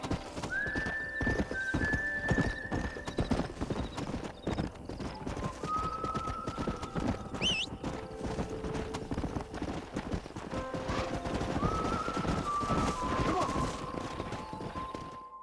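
A horse gallops in the Red Dead Redemption video game, with rapid, steady hoofbeats throughout. A sharp neigh cuts in partway through, over a busy backdrop of game sound.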